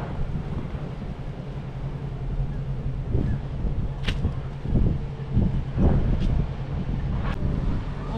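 Cold wind buffets the microphone beside a canal in the Netherlands, a steady low rumble with gusty bursts and a few faint knocks, heard alone without talk.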